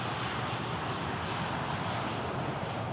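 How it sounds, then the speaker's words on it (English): A Boeing 737 airliner in Microsoft Flight Simulator 2020 at Miami International Airport gives a steady, loud engine roar and rush, unbroken for the whole stretch with no talk over it. "Oh, another American 737."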